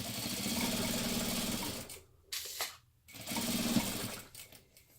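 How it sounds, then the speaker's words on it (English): Sewing machine running steadily as it stitches zipper pocket panels of a crossbody bag together, a continuous motor whir broken by two short stops and restarts as the fabric is turned at corners. "I just sew these 2 zipper pocket panels together at a 1/2 inch seam allowance"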